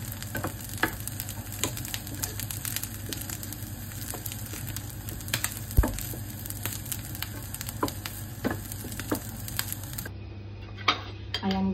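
Corn kernels frying in a pan for a Filipino sinangag na mais snack, a steady close sizzle with scattered sharp pops and splatters and occasional stirring scrapes, no talking.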